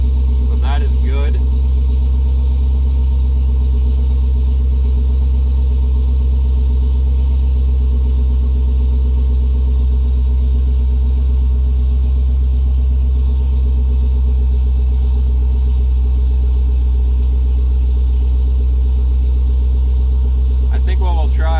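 A 2018 Jeep Grand Cherokee Trackhawk's supercharged V8, fitted with a JMS PowerMax Boost A Pump, idles with a deep, constant low rumble that holds steady throughout, with brief faint noises at the start and end.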